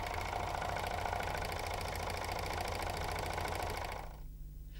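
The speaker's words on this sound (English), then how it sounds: "Holding all the threads, start to sew slowly," A Janome 634D overlocker runs with no fabric, forming a thread chain. Its loud, steady mechanical whirr and buzz continue close up for about four seconds, then cut out abruptly.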